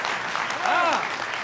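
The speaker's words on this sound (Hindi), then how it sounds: "ताली बजाओ तो ढंग से बजाओ जरा" An audience claps on request during a comedic political show, steady applause running throughout, with a sliding tonal sound rising and falling briefly in the middle.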